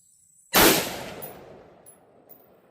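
A rifle topped with a Gunnr Odin 1-10x28 LPVO scope fires a single sharp, loud shot outdoors at a 50-yard target, with the blast decaying into a short, rolling echo.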